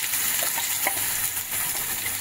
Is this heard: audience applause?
no